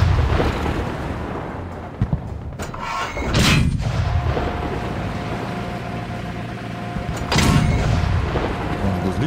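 In the video game Modern Tanks, a tank cannon fires two heavy, booming shots several seconds apart over a constant rumbling engine drone.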